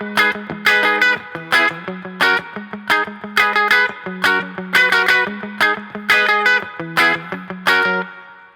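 A distorted electric guitar plays a verse riff, single low notes alternating with chord stabs in a steady, punchy rhythm, loud and close with no talking.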